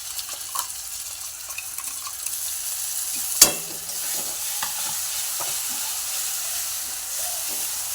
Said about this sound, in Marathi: छान परतून घेऊया मसाला छान तेल सुटेपर्यंत परतून घेतलेला आहे